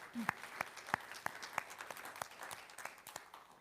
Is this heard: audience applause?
yes